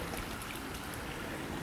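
Campbell Creek in Mecklenburg County, North Carolina, flows past the remains of an old grist mill with a steady, broadband rush of water that is close and constant throughout, with no talking.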